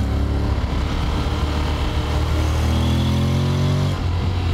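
A Honda X-ADV 750 engine is heard while riding in second gear, a loud, continuous engine drone with rising pitch as it pulls, steady throughout with a brief dip near the end and no speech.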